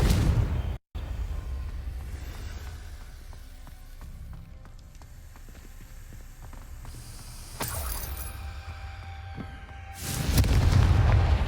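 Fiery Confringo spell blasts in Hogwarts Legacy: a heavy low rumbling burst opens, then scattered crackling impacts follow, and a second loud explosive swell lands near the end, with no talking.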